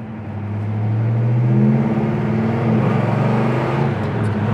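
A 1970 Pontiac GTO Judge with a four-barrel carburetor revving while driving, a deep loud engine roar that builds, rises in pitch and holds steady, with no talk over it.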